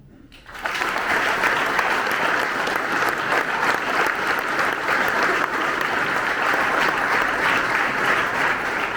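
A large audience at a reception for educators and sports clubs breaks into loud, sustained applause. It starts suddenly after a short quiet moment and stays dense and steady to the end.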